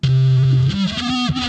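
Heavily distorted electronic bass tones buzz loudly, shifting pitch in short sustained steps with a gritty, saturated edge.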